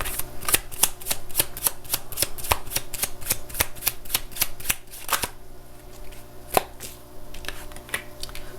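Tarot cards shuffled in a steady rapid run of crisp flicking riffles, close and fairly loud, followed by a quieter pause with a couple of isolated card snaps as cards are drawn.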